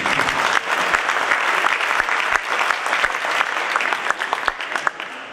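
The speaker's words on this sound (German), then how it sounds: "Applaus" Steady audience applause fills a sports hall at a badminton team introduction, dense clapping with sharp individual claps standing out, continuous and fairly loud throughout.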